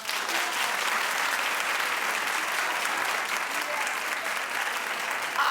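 A talk-show studio audience claps and cheers in a steady, full roar of applause that holds evenly from start to finish, loud and close.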